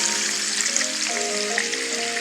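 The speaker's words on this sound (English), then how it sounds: "Got to put the salmon in the grease now. Yeah. And watch it fry all night." Salmon fries in hot grease with a dense, steady close sizzle and spatter at fairly loud level, and faint tonal hum beneath. No voices.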